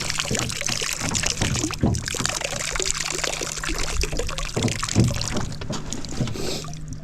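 Water is poured and sloshed out of a container while crappie fishing with jigs and bobbers in late January, a close, uneven trickle and splash with scattered knocks and handling noises.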